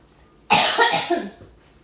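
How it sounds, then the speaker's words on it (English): A single close, harsh cough from a person recovering from Omicron bursts out and trails off into a short breath. "If you hear me cough, it's because I'm getting over Omicron"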